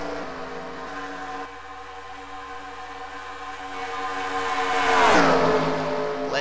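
Race car engines roar in a simulated NNSCRA Pizza Hut X Series league race. A steady multi-engine drone builds, then a car sweeps close by with a sharp falling pitch near the end, with no talking.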